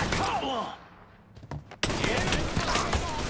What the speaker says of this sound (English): Nice shooting there